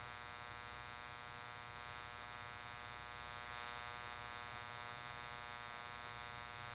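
An electric plasma arc burns against PVC pipe packed with mud, giving a steady, loud electrical buzz and hum with a crackling hiss layered on top, unbroken for the whole stretch.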